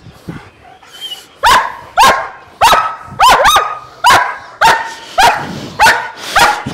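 A German Shepherd protection dog barks close and loud, about nine sharp barks in a fairly regular rhythm with brief gaps, no talk over them.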